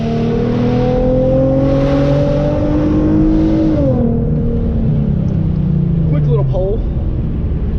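Hyundai Genesis Coupe fitted with an aftermarket exhaust revs loud and close, its engine note climbing and holding, then dropping off around four seconds and falling through a short downshift-like sweep.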